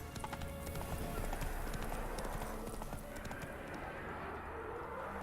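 Roach, a horse in a video game, gallops in a rapid, steady rhythm of hoofbeats close by, with game sounds behind and the hooves easing off toward the end; no one speaks.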